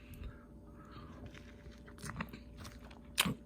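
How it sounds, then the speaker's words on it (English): Doritos dipped in white queso are bitten and chewed close to the mic, soft crunches and moist chewing with a sharper crunch near the end, over a quiet room hum. "Chew you up some Doritos while you wet it."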